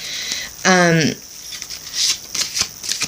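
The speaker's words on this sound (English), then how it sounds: "Now, I'm going to shuffle this Magical Messages from the Fairies Oracle deck card." Oracle deck cards riffle and shuffle with soft papery flicks and taps, close up, while a voice briefly speaks at the start.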